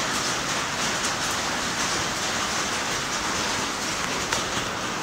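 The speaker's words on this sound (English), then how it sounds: "Yeah, it's raining again down here." Steady rain falls outdoors as a constant, dense hiss of drops hitting the ground, uniform and fairly loud throughout with no voices.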